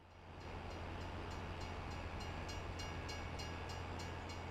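A train rolls past in the video game Farming Simulator 22, a steady rumbling drone with rhythmic clacking of wheels over rail joints, rising quickly at the start and then holding evenly loud to the end.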